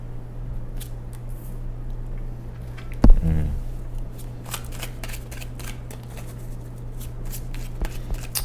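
Tarot deck being shuffled and cards pulled, soft papery riffles with a sharp louder shuffle burst in the middle and light card flicks scattered over a steady low hum.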